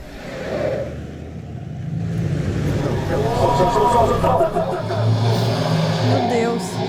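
A car drives in a Breaking Bad scene, its engine a steady, fairly loud rumble that swells as it accelerates, while people talk over it.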